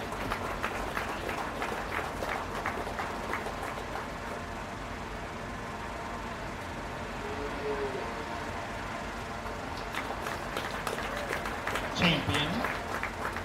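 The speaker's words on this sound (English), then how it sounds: "give them one big round of applause" A crowd at a county fair beef show applauds in a dense, sustained wash of clapping that runs the whole stretch, with an announcer's voice and arena bustle mixed in.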